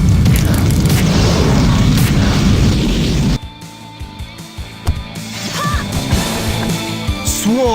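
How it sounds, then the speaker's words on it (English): A booming special-attack explosion from Beast King Blast in Grandia 2 Anniversary Edition roars loud and dense for about three seconds, then cuts to quieter scattered thumps and effects. "Beast King Blast!"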